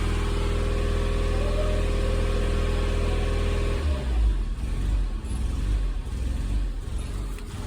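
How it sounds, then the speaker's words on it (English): A Mitsubishi Outlander engine revving steadily, then dropping off after about four seconds into a rough, uneven, faltering idle as it fails to hold. "It's just that it won't idle."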